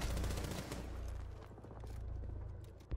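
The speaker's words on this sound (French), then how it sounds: "Je suis en train de tirer." Rapid gunfire from a Rainbow Six Siege match rattles in quick successive bursts, loud and close at first, then thinner and more scattered, with a sharp hit at the very end.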